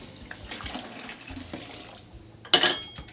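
Liquid is poured from a jar while caramel apple cider is made at home, with yeast waiting to be pitched. A soft trickle runs throughout, then a brief louder splashing gush near the end.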